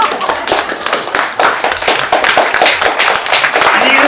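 A round of hand claps in quick uneven bursts, close and loud, celebrating a prince in a staged play, with voices mixed in.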